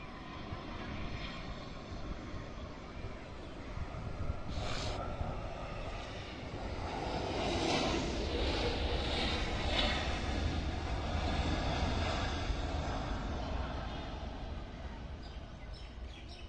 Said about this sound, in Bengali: এগিয়ে আসছে সাদা রঙের বড় বিমান এয়ারবাস A330 মডেলের